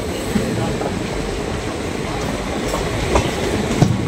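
Sifhung Express, a local intercity train, rolls into Bongaigaon station with a steady, broad rumble of wheels and carriages, a few faint knocks and clacks rising above the continuous noise.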